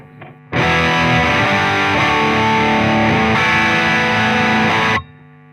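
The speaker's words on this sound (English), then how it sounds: "So here's the pedal off with a few chords." Electric guitar chords ring loud and distorted through an amp with the noise gate pedal switched off, strummed for about four seconds before cutting to low amp hiss.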